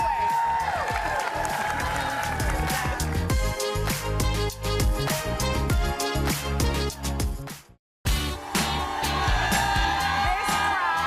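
A studio audience at a morning TV show birthday celebration for Hoda cheers, whoops and applauds loudly with music playing underneath, with a brief drop to silence midway before the noise resumes.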